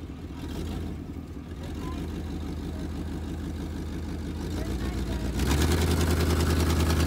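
A truck engine idles steadily on a farm before hauling hay, its low rumbling drone continuous and close, growing slightly louder and rougher near the end as the revs pick up.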